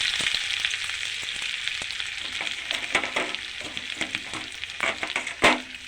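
Chopped ginger, with a few whole cumin seeds already tempering, sizzles steadily in hot oil in a home kitchen, a continuous close frying hiss broken by sharp pops and spatter bursts, the loudest near the end, with no talking.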